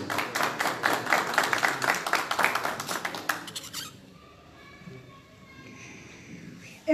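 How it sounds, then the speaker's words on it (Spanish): A welcoming round of applause for the mayor of El Alto at a recognition ceremony for the Always Ready football club: rapid, crisp clapping for about four seconds, then it stops, leaving a quiet room. "Vamos a recibirla con un fuerte aplauso."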